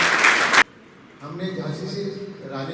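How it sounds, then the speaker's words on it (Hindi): A short burst of audience applause at a news event, loud and dense for about half a second before cutting off, followed by a speaking voice. "इनके लिए सबसे पहले जोरदार तालियां बजाइए"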